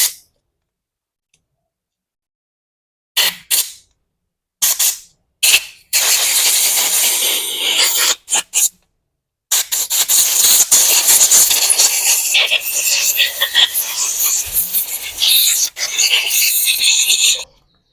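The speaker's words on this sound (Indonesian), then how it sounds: "Nah, kita semprot pakai cleaner." Cleaner sprays in loud hissing bursts into the small holes of a motorcycle carburetor, a few short blasts followed by a long continuous spray, close to the mic.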